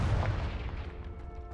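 A Confringo blasting spell cast in Hogwarts Legacy, heard as a loud, booming explosive burst at the start that rolls off into a fading rumble over about a second and a half, with no one talking.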